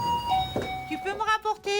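A home call bell, used by a disabled mother to summon her daughter, rings with a short two-tone chime. Voices talk around and after the ring.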